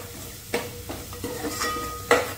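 Masala roasting on a low flame for vada pav: a few spaced scrapes of a spoon stirring in the pan over a faint sizzle, quiet and close, without speech.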